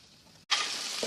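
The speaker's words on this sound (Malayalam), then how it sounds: "സവാളയും പച്ചമുളകും കറിവേപ്പിലയും ഇഞ്ചിയും പിന്നെ നേരത്തെ മുറിച്ച് വെച്ചിരിക്കുന്ന വഴുതനങ്ങ, തക്കാളി ഇതെല്ലാം കൂടെ ചേർത്ത് ഒന്ന് നന്നായിട്ട് വഴറ്റിയെടുക്കാം" Brinjal, tomato, onion, green chilli, curry leaves and ginger sautéing in hot oil: a quiet moment, then a sudden loud burst of close sizzling that holds steady for a fraction of a second.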